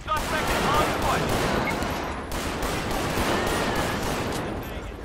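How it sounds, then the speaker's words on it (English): Bursts of gunfire in GTA 5 during a highway patrol police mod shootout, rapid repeated sharp cracks in clusters over several seconds, fairly loud, with some faint background noise. "He's still shooting."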